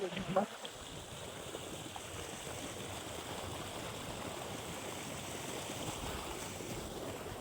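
Floodwater pours like a waterfall beside soybean fields after heavy rain near a village, a steady broadband rush of water that runs unbroken and fairly loud for the whole stretch.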